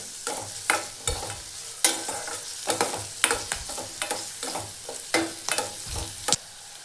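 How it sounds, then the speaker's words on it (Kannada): Cinnamon and cloves fry in a pan for a sprouted horse gram sambar, a soft sizzle broken by a series of sharp, irregular scrapes and knocks as a spoon stirs them. "ಈಗ ಇದಕ್ಕೆ ಚಕ್ಕೆ ಮತ್ತು ಲವಂಗನ ಸೇರ್ಸತ್ತೇನೆ. ಇದನ್ನು ಸ್ವಲ್ಪ ಫ್ರೈ ಮಾಡ್ಕೊಳ್ಳೋಣ."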